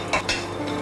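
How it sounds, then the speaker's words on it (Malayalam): Coconut dry roasting in a pan without oil, stirred with a utensil that scrapes and clinks twice against the metal over a steady low background, no talking. "ആദ്യം ഡ്രൈ റോസ്റ്റാണ്, ശരിക്കും എണ്ണയൊന്നും ഒഴിച്ചല്ല നമ്മൾ വറുക്കുന്നത്."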